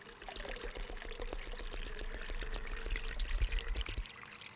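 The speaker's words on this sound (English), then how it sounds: "I'm going to hold the bottle tightly and I'm just going to slowly pour some water in." Water poured slowly into a plastic bottle gives a steady, close trickle that keeps going throughout, swelling slightly toward the end before easing off.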